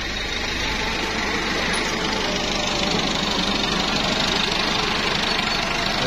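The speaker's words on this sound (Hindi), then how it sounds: "ये वो हमारा ट्रैक्टर आ गया है और ट्रैक्टर मैं दिखाता हूँ आपको। तो ट्रैक्टर आ रहा है" A tractor engine runs in a field being prepared for a cabbage crop, a steady knocking diesel chug heard fairly close and constant, with no voices over it.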